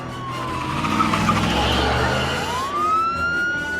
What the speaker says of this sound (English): Vin speeds off, leaving Danny alone to be chased by the cop.